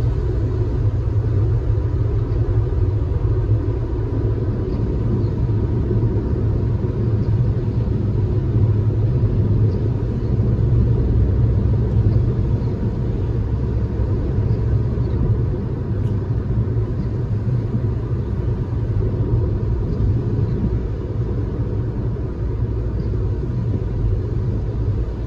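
A Jeep Renegade Longitude T270 (2022) engine pulls up a hill in fifth gear, a steady low rumble of engine and road noise from inside the cabin, continuous and fairly loud with no talking.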